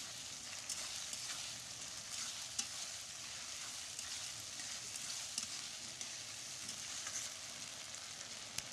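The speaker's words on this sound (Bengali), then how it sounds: "আদা রসুন ভালো করে ভেজে নিয়ে" Ginger garlic paste fries with onions, giving a soft, steady sizzle with faint stirring ticks throughout.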